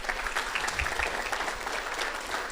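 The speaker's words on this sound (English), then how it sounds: "if we can have a round of applause for the Chamber and Chelsea Wilson who helped coordinate all" Audience at a city State of the City event applauding, a steady wash of clapping from a large room, moderately distant and even throughout.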